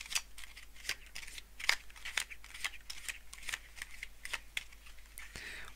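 Tarot cards being shuffled by hand produce soft, quiet riffling and flicking sounds in an irregular rhythm, close by, with no voice over them.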